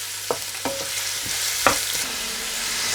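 Whole spices frying in a pan on medium heat, a steady close sizzle with a few sharp clinks and taps of a spoon against the pan.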